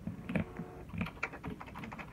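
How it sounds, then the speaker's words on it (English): Fingers type on a computer keyboard at a desk, a close, quick run of irregular key clacks with brief pauses, and no voices. "I am on my computer typing on the keyboard"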